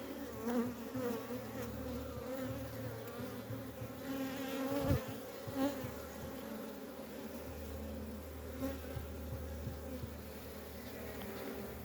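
A dense, steady buzz of many agitated honeybees around a hive fills the whole stretch, close and continuous, with brief louder swells as individual bees pass near.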